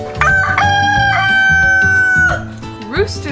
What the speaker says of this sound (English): Now the thing a rooster is probably most well known for is their crow.